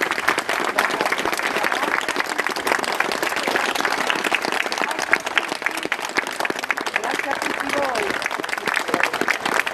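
Sustained, dense applause from a crowd honouring hospital emergency staff, loud and steady throughout with no pauses, outdoors at a public gathering in Italy during the 2020 pandemic.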